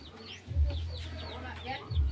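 Gamefowl breeder hen clucking close by in a yard, soft repeated clucks with other chicken and bird calls chirping in the background, no talk.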